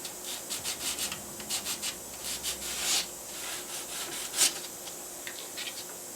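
Guitar fret ends are sanded with 400 grit sandpaper, giving soft, rhythmic rubbing strokes in short bursts, close and quiet, with a few sharper scrapes mixed in.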